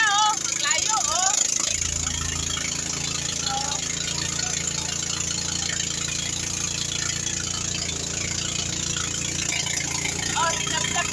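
A boat engine runs with a steady drone throughout, a low rumble and constant hiss, on a crossing from Bohol to Cebu, while voices talk over it now and then.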